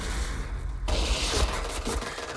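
Gunfire in a Point Blank team deathmatch, likely a pump shotgun, erupts as a sudden loud burst partway through, preceded by quieter game ambience and followed by a rattling tail.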